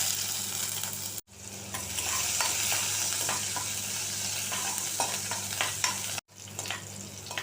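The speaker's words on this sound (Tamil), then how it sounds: "ஆயில் காஞ்சிருச்சு, இப்போ ஆனியன் போட்டுக்கலாம்." Onion sizzles and crackles in hot oil in a pan, loud and close with stirring, the frying interrupted by two brief cuts.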